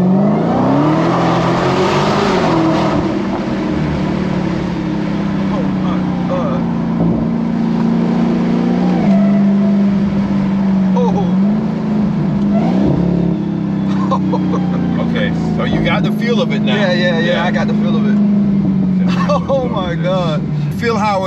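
A Dodge Challenger SRT Demon 170 engine roars loud and steady throughout, its pitch climbing and shifting as it launches and revs, with people talking over it.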